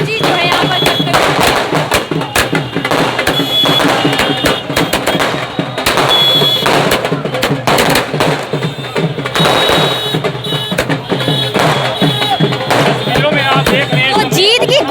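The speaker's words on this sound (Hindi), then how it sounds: "आप देख सकते हैं पटाखे यहाँ पर, आतिशबाजी जो है यहाँ पर करते हुए।" Dense bursts of firecrackers and fireworks crackle and pop almost continuously at a BJP victory celebration in Karnal, loud and close, with shouting crowd voices mixed in.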